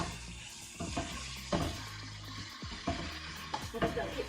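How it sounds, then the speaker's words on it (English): Onions and chicken stir-frying in a pan, with a steady sizzle broken by repeated scraping and clattering strokes as the food is stirred around. "We're just going to keep stir frying."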